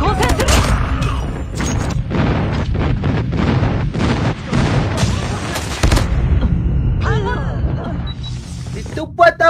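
Repeated booming explosions and heavy gunfire from an enemy airstrike in a Hardpoint match of a shooter video game, loud and dense, mixed with game announcer voice lines.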